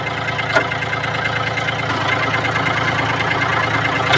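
Japanese-import Yanmar F-180 farm tractor with the PTO engaged in third gear, its engine running loud and close in a steady, slightly knocking mechanical drone, with a brief clack near the start.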